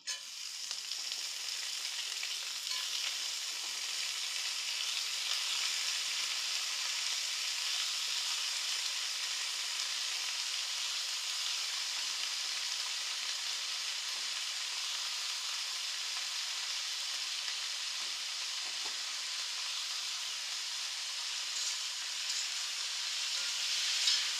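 Brinjal (eggplant) bajji fry in hot oil, giving a steady, bright, close sizzle and hiss that holds evenly from start to finish with no talk.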